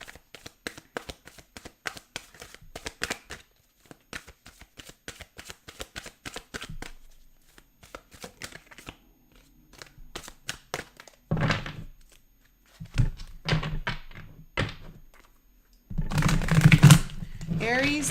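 A tarot card deck being shuffled and cut: rapid riffling flutters, soft thunks as the pile is cut and set down, close and crisp, with stretches of talking between.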